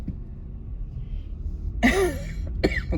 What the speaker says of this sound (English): I am still coughing a bit.